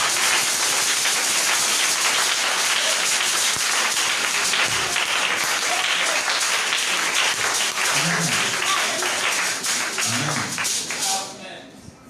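A congregation at a divine healing seminar cheers and claps, a loud, dense, unbroken roar of applause and voices that fades away at the very end.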